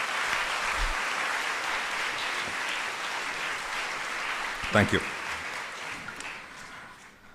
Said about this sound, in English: you must clap for yourselves to be extremely